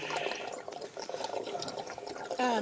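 Running water splashes over a pool skimmer basket being rinsed, a steady close wash with a brief louder gush near the end.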